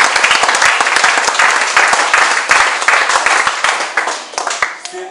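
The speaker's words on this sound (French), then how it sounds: "On peut acclamer la parole du Seigneur." Church congregation applauding together, a dense, loud burst of many hands clapping nearby that thins out toward the end.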